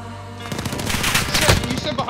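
Gunfire in the Call of Duty Modern Warfare video game, a rapid automatic burst of rattling shots that starts after a brief pause and continues densely, loud and close, with faint voices underneath.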